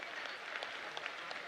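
Audience applause at a Bageshwar Dham religious gathering: dense, steady clapping from a crowd, fairly faint and continuous with no voices over it.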